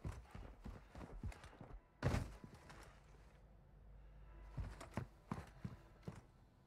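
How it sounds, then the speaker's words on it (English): Footsteps in the DMZ mode of a Call of Duty shooter, faint irregular thuds of someone walking nearby with a few heavier steps, quiet and without talk. "I heard footsteps."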